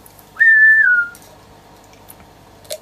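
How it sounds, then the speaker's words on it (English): A single short whistled note from a whistling tic, clear and steady, slides slightly downward before stopping, followed by quiet with a faint click near the end. "Whistling is a super common tic."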